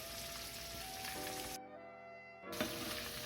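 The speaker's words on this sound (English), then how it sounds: "You can see that some of those are already started to brown there in that oil" Paneer cubes fry in a pan of oil with a close, steady sizzle that cuts out briefly and then returns, with no voices.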